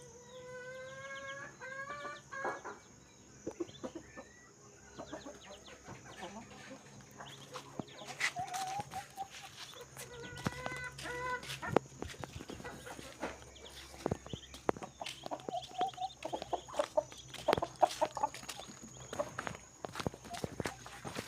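Chickens cluck and call now and then amid scuffling footsteps and faint background voices, fairly close in an outdoor yard.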